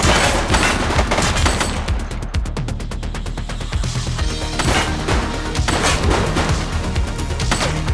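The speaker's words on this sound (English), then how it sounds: "Shots fired!" Gunfire in The Precinct, a police action game: loud, rapid volleys of shots crack in quick bursts, with a dense rattling stretch in the middle and sharp impacts throughout.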